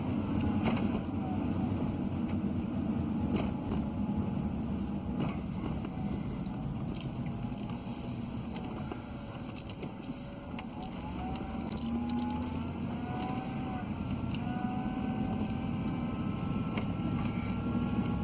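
A 1997 Chevy 1500 truck idles as its power steering pump whines, a steady engine drone with wavering tonal whine rising and falling throughout, close and continuous.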